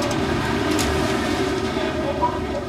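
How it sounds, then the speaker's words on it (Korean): Subway train running just after the morning rush hour, a steady low rumble with rattling carriage noise filling the whole stretch, close and continuous. "출근 시간이 막 지난 지하철은 한산했다."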